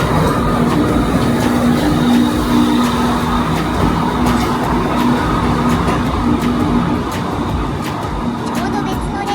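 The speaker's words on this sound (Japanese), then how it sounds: "ちょうど別の列車が出ていったのだ。" A Sri Lanka Railways train pulls out of a station, a loud, rumbling rolling noise with rhythmic clicks and a steady hum, heard close by as it moves off.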